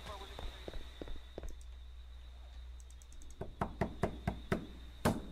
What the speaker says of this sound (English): I knock hard as hell.